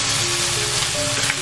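Chicken searing in a pan for a sukiyaki-style simmered chicken dish gives a steady, close hiss of frying that holds evenly without pause.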